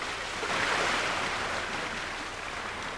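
Waves wash up on a beach at a sea kayak landing on the Maine coast, heard as a continuous broadband surf rush with some wind noise and no voices.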